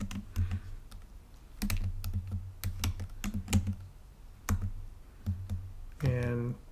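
Keys on a computer keyboard are typed in quick irregular bursts of crisp clicks, with short pauses between them, and a brief voice near the end.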